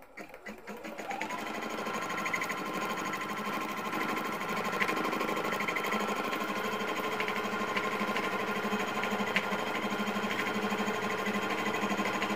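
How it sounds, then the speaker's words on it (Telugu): A computerized embroidery machine stitches a blouse design, giving a steady, fast mechanical whirr with rapid needle clatter that runs continuously at an even level throughout, with no talking. "మనకు మిషన్ అనేది ఏ డిజైన్ కుడుతుంది అనేది కూడా చూపిస్తుంది"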